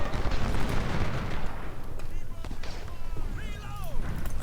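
Cannons fire across a Second Battle of Bull Run battlefield in Ultimate General: Civil War, with heavy low booms and crackling gunfire, then a voice speaking over the din.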